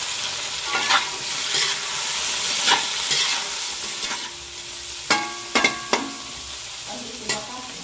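Shrimp frying in a pan with onion and ginger, a steady sizzle with repeated scraping stirs and a few sharp utensil clacks against the pan, close and without talk.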